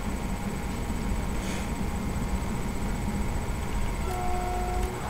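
A locomotive horn sounds in the game Train Simulator 2020, two short steady tones near the end over a constant rumble of the moving train.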